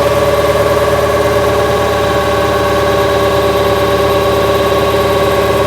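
New Holland TL-90 turbo diesel tractor engine running steadily under load with fuel turned up, a loud, constant close-up drone with a strong harmonic hum and vibration, no talk.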